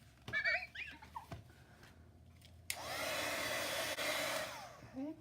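A hair dryer used as a heat tool to dry ink on a junk journal tag blows a loud, steady whoosh for about two seconds after a few light taps and crafting noises, then cuts off.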